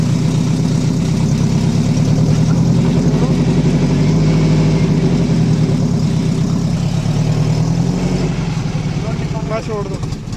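A Toyota RAV4 engine idling with a failing fuel supply, a loud steady low rumble that wavers slightly and starts to dip near the end, with someone speaking over it.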